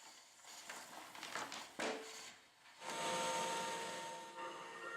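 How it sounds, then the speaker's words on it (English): A Hoover WindTunnel T Series Rewind UH70120 upright vacuum reels in its power cord automatically: a faint click, then a soft whirring rush of about two seconds as the cord winds back into the body. "When the cord is pulled out, you push on the gray plastic tab to wind up the cord automatically."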